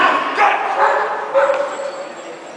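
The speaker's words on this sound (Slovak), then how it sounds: "Ako vidíte, ten pes pracuje systematicky" A police dog working at the Nitra 2012 auto show gives a few short whining barks and yips, close and fairly loud amid crowd murmur and a voice.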